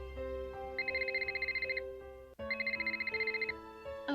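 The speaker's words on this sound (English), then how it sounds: "Oh, we got a phone call." A telephone rings in the Nancy Drew mystery video game. Two rings come in rapid trilling pulses, each lasting about a second, over a steady tonal background hum with no voices.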